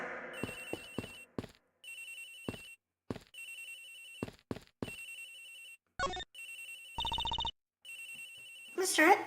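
A cell phone in the Ace Attorney Investigations video game rings with a gentle, lullaby-like melody, its repeated electronic tones arriving in short regular bursts separated by brief gaps, clear and moderately loud.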